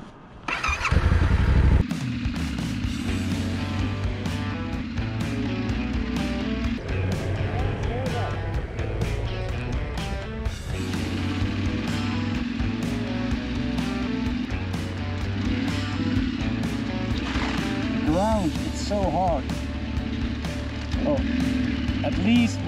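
A Yamaha Tenere 700 adventure motorcycle ridden off-road on a muddy trail in Hungary: a steady, loud engine drone with rising and falling revs and gear changes throughout, close to the rider.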